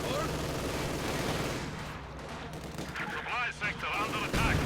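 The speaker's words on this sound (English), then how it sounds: "I'm trying to take out this machine gun." Gunfire and artillery blasts in a Company of Heroes 2 battle, a dense run of sharp reports and booms filling the mix, with someone talking over part of it.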